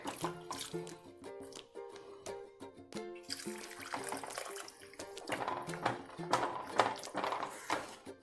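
Water splashing and trickling while a mixer jar is rinsed and the ground paste poured into a simmering Kerala cashew nut curry, with clinks and gurgles in an otherwise quiet kitchen.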